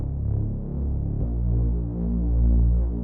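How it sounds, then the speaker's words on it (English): Deep throbbing dubstep intro bass from a Serum synth patch, a sustained low wobbling tone that shifts pitch once partway through, loud and alone. "There's this bass that sounds like this."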